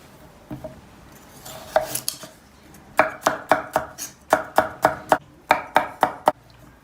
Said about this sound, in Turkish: Soğanlarımızı da doğrayalım.